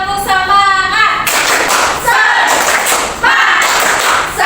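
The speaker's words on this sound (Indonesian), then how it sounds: "Ayo, tepuk semangat." A classroom of pupils does a rhythmic spirit clap, bursts of hand claps and thumps in quick patterned groups repeated about three times, loud and close, with a teacher leading and children chanting between the bursts.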